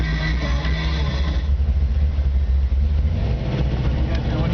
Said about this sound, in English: You guys go and hear the engines.